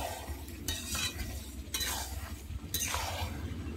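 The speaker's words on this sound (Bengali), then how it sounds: "আমি দইটা দিয়ে কিন্তু এইভাবে নাড়তে থাকবো, না হলে কিন্তু দই থেকে জল ফেটে যাবে।" A spoon stirs yogurt into a spiced curry in a pan, with three distinct scraping strokes close up over a soft sizzle and no talking.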